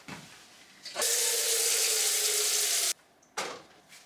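Kitchen tap running into a pot being filled with water for boiling, a steady loud rushing hiss for about two seconds, then a brief pause and a shorter second burst.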